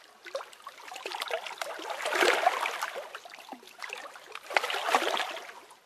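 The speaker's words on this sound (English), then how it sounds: "boat." A boat moving on water, with gentle sloshing and trickling splashes that swell and fade in two waves, heard alone at moderate level without talking.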